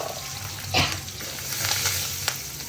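Curry leaves and chilies hit hot oil with asafoetida for a tempering, a steady close sizzle that flares in a brief louder burst, then crackles on with a few spatters.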